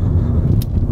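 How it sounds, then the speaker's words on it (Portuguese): A car with adapted hand controls accelerates from inside the cabin, giving a loud, steady low engine rumble that holds strongly for a brief moment with no talking. "E se você quiser acelerar o carro mais, é só você acelerar que ele vai..."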